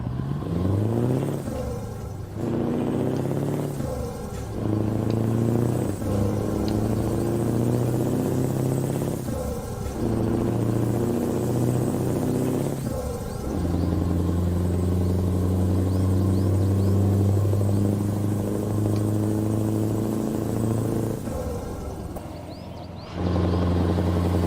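A Scania hook loader truck engine in a truck simulator revs and accelerates in a loud, steady drone, its pitch climbing through repeated gear shifts with brief dips between pulls.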